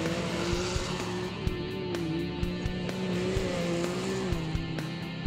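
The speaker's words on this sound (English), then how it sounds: "Can-Ams, Razors, Textron Wildcats, and all sorts of custom dune buggies playing across the desert" Can-Am, Razor and Textron Wildcat dune buggies run across desert dunes, a steady engine drone with a wavering pitch that rises and falls, plus scattered sharp clicks and knocks, held at a fairly even loudness throughout.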